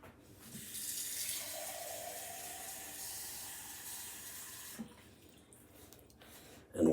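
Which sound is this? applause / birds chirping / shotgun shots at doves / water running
water running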